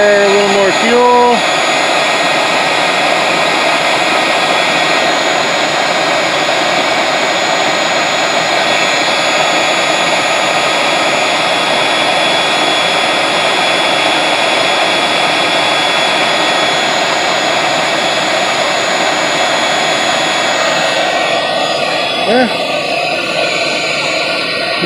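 An air-forced forge burner roars steadily and loudly for the whole stretch, a constant broadband blast with a brief voice near the start and a small shift in tone near the end.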